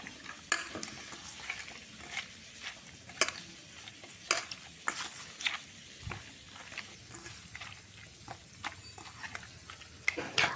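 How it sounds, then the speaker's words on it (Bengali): Boiled eggplant is mashed by hand with spices for a village-style vorta, giving soft squelching, pressing sounds. Irregular close-up slaps and squishes recur over a quiet background, with no talking. "এবার বেগুনের সাথে সব কিছু ভালো করে মেখে নেব"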